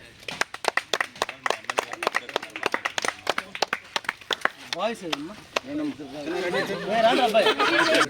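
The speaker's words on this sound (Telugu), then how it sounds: "క్లాప్స్ కొట్టండి." A group of people claps hands at a small community gathering handing out essentials at a health centre, first in a few sparse bursts and then in a sustained round of applause, with loud talking and chatter over it.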